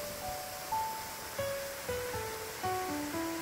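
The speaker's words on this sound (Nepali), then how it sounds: "यहाँ को झरना को कलकल कोयल को कुकु प्राकृतिक सौंदर्य" Near Baikuntha Taal in Madi, Chitwan, a waterfall gives a faint, steady rushing wash while a bird calls in short, repeated descending two-note phrases over it.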